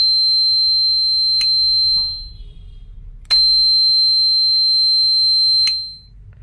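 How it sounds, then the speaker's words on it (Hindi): A steady, high-pitched electronic buzzer on a wireless remote-controlled door lock drones in two long stretches separated by a brief pause, with faint clicks and low hum underneath. "अगर रिमोट दबा रहेगा तब भी बजर की आवाज़ आएगी"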